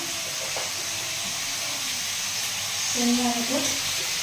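Onion sizzling in an iron pan with turmeric and salt, a steady broadband hiss of frying running throughout, with faint kitchen voices briefly audible in the background.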